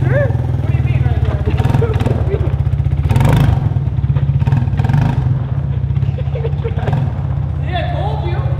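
A quad on paddle tires revving hard in deep snow, its engine loud and close with rising and falling throttle bursts, while people talk and shout over it throughout.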